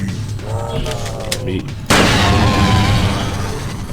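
A single loud gunshot kills an enemy in System Shock 2. The sharp crack bursts in about halfway through, over game sounds and a faint voice, and a booming tail follows.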